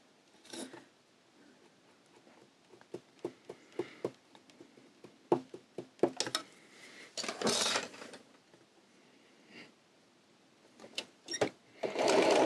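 A home sewing machine stitches zipper tape for a small coin purse in short bursts of rapid whirring, separated by clicks, taps and fabric handling.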